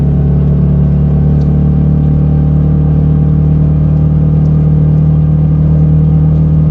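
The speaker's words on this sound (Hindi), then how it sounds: "तो पहले तो मैं अपनी बाइक को अराउंड 70 की स्पीड तक लेके चलता हूँ।" A TVS Ronin base-model motorcycle on the highway, accelerating toward about 70 km/h, with a loud, continuous low engine drone and steady wind rumble throughout and no talk.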